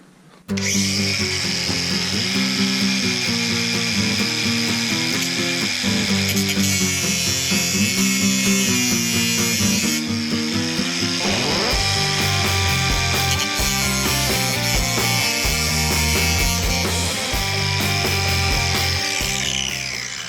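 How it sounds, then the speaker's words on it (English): An angle grinder cuts through a 68RFE automatic transmission case, a loud continuous high-pitched grinding whine with shifting pitch as the blade bites into metal, running nonstop for about twenty seconds. "Grinder might not be the best tool for this."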